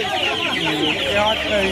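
Hens cluck and chatter continuously at a busy poultry and duck market at Uluberia, several birds close by, with people talking underneath.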